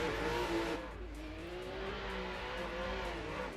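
Drift cars, a Toyota Supra leading and a BMW E36 chasing, race in tandem at a drift competition, engines revving hard and steadily with a loud, continuous roar and a pitch dip partway through.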